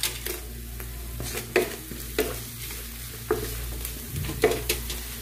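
Chopped dried red chillies stirred into sizzling ginger and garlic in a pan, a close, steady fry with sharp spoon scrapes and clinks at roughly one-second intervals, and no voices.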